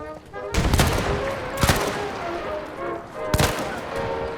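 Three sharp rifle gunshots from the Mount and Blade Warband video game crack out at uneven intervals, loud and close, each with a short ringing tail over a low background hum.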